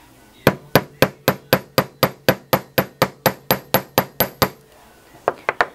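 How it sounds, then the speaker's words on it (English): Steady, evenly spaced metallic hammer strikes on the corner of a bench block, flattening the end of a metal ring, about seventeen in a row, followed after a pause by a few quicker, lighter taps. "I'm going to use the very corner of my bench block to hammer down this end flat"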